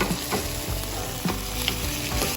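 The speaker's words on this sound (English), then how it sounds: "Now it's the sizzle sound." Orzo puttanesca ingredients, with olives and chili flakes, sizzle steadily in a hot pan, a loud continuous frying hiss broken by a few sharp crackles and stirring scrapes, with no voices.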